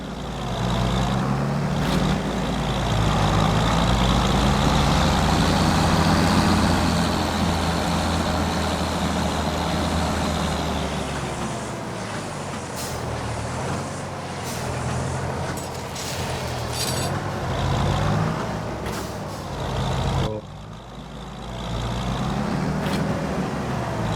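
A tractor engine drones in Farming Simulator 25 on the Kinlaig highlands map: a loud, continuous low rumble whose pitch swells and dips slightly, with a few faint clicks later and a short dip near the end, no talk.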